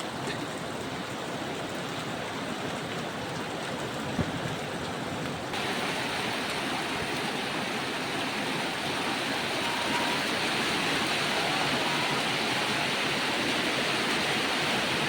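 Heavy rain falls in a continuous, loud rushing wash like running water, and the roar swells slightly partway through, with no talking.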